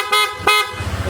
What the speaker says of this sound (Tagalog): Yan yung busina kinabit natin